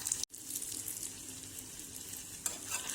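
Cashew nuts frying in ghee in a small tempering ladle give a steady, close sizzle with a soft crackling hiss, interrupted by one brief dropout near the start.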